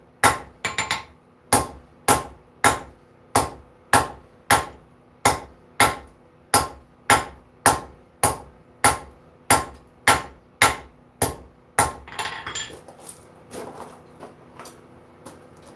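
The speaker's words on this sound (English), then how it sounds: "So I do want to get this tang reduced. The sharp part of my anvil and reduce it." A blacksmith hammers a steel tang on the sharp edge of an anvil: about twenty sharp, ringing blows at a steady, even pace, close and loud, ending in a few lighter, scattered taps and scraping.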